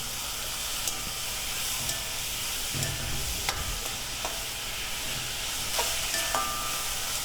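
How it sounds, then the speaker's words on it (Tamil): Chopped tomatoes sautéing in a pan for a home-cooked curry, a continuous sizzle with occasional sharp clinks of a spatula stirring against the pan. "அடுத்ததாக நம்ம இதில் கட் பண்ணி வச்சுருக்கிற தக்காளியை சேர்த்து நல்லா வதக்கணும்"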